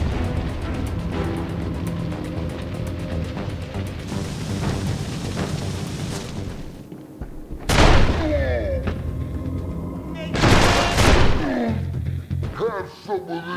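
Gunfire from the police video game Urban Chaos, with heavy booming shots ringing out over game music and background sound, including two louder bursts in the latter half.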